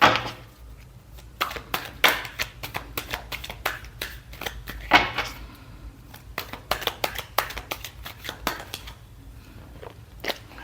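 Tarot cards shuffled by hand in rapid, irregular bursts of crisp riffling and slapping, close and fairly quiet, with no talking.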